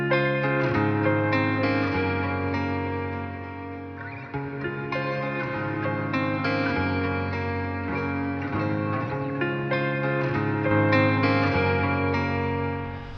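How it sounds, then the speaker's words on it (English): Sustained tones washed in a grainy, shimmering reverb, dense and continuous with a warped, distorted texture and no voices. "love messing with the grain reverb. It adds something different,"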